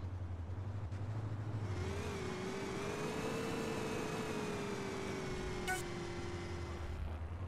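Taxi car in a roleplay driving game, engine humming steadily and rising into a revving pitch sweep at moderate distance, with a brief click-like blip near the end.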